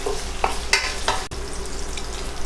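Sausage frying in a pan over medium-high heat, giving a steady close sizzle broken by a few sharp spits and crackles and one brief scrape, with no talking.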